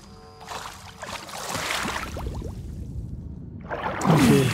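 Water flows and trickles in a game set on Pandora, Avatar: Frontiers of Pandora, a steady soft wash with a few bubbling plinks and a brief louder splash near the end, with no talking.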